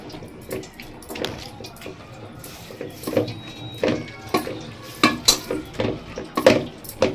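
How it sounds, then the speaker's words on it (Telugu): Wooden pappu gutti masher pounding and pressing cooked chicken and dal in a pot for Hyderabadi chicken harees, a run of irregular close thuds and scrapes that grow louder and quicker toward the end, with no talk. "మిక్సీలో వేసుకోకుండా పప్పు గుత్తితో ఇక్కడే చేసుకోండి."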